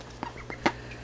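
A pet mallard duck lets out a few short, close quacks and squawks in quick succession, the last one louder, with no talk over them.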